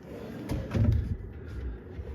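A drawer in a standard two-queen hotel room slides open with a soft wooden scrape and a muffled bump, close by and fairly quiet, with no talk.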